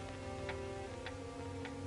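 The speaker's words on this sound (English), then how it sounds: "The ticking of the clock" A clock ticks three times at an even, unhurried pace, crisp and moderately close, over a low steady hum in an old mystery film.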